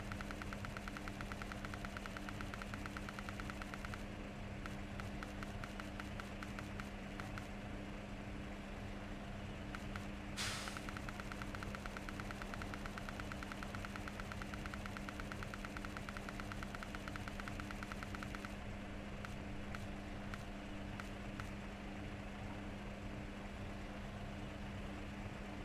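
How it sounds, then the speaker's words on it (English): A truck engine idles steadily in the SnowRunner video game, a low constant hum with a faint mechanical rattle running on without change, and no one talks. "Turn the engine off."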